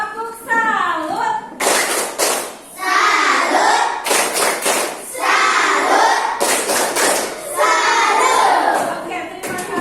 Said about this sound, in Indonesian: Bagaimana kalau kita kasih tepuk salut?